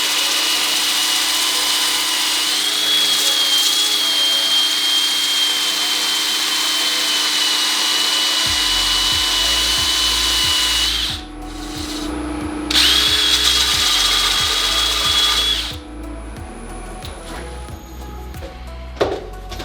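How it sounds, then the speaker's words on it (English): A wooden bowl spins on a lathe while its outside is sanded, giving a steady whine and a continuous hiss of abrasive against wood, with the motor tone shifting and briefly stopping partway through. "We're going to sand this outside before we turn it over"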